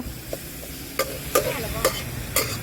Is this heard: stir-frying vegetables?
yes